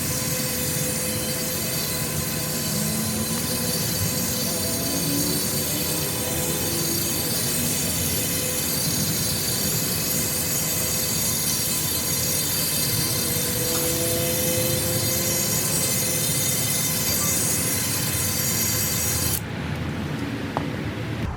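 An electric cleaning brush scrubs deep inside the wheel well of a BMW, a steady dense whirring and spraying wash that runs close and loud for the whole stretch, cutting off abruptly near the end.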